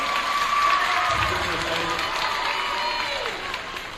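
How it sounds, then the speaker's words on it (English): Students at a school club day assembly break into applause and cheering, a dense crowd wash with a voice briefly audible over it, fading a little at the end. "Round of applause."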